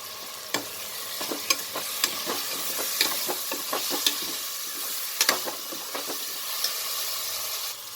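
Whole spices and garam masala frying and being stirred in a pan for kabuli chana pulao, a steady close sizzle broken by repeated sharp clicks and scrapes of a spoon against the pan, with no voices.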